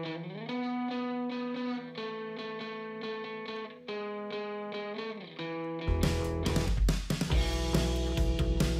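Guitars with subtle reverb in an indie rock mix: sustained, effected guitar chords ring out alone, then the full band with drums and cymbals crashes in for the last few seconds.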